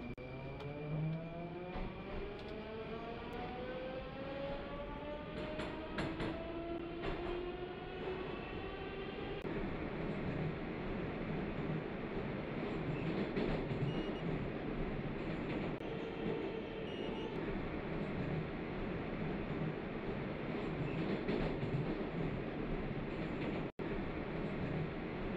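A Rusich metro train running in the Moscow Subway Simulator 2D video game, with steady rolling rail noise and rising whining motor tones as it accelerates, continuous and fairly quiet throughout.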